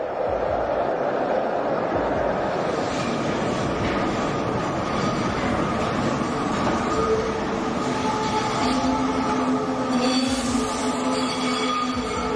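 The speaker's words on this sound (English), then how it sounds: "At Union Station, the train extends out over the platform as it enters because the stop is on a curve." A train rolls into Union Station on a curve with a steady rumble and metallic wheel squeal that rises to high tones toward the end. The sound is close and continuous, and no one speaks.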